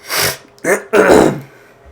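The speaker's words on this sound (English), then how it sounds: "Clear my throat." A man clears his stuffed-up throat in three short, rough bursts with brief pauses between them, close and fairly loud.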